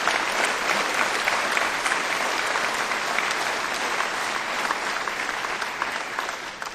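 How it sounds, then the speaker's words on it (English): Sustained, dense applause fills a joint legislative session in Louisiana in 2012 as the room honors the state's teachers; steady and loud throughout, with no voices rising above it. "I think we should give a round of applause for our teachers in Louisiana,"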